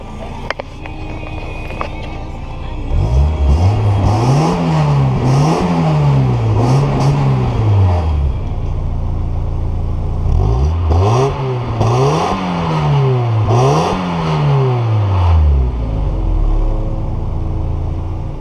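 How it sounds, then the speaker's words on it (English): A Mazda Miata engine revs up and falls back in two sets of three rising and dropping throttle blips, loud and close with no talk over it. "I'll give it some revs here for you guys."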